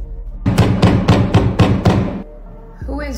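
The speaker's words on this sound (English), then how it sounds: "Who is banging on the door right now?" Someone banging on a door, six loud, heavy, evenly spaced thuds close by, followed by a short pause and then a voice starting to speak.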